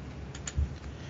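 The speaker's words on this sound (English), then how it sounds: "Connie is typing again furiously" Rapid keyboard typing runs continuously at low level, a steady quiet patter of keystrokes heard indoors by a lake in Greece.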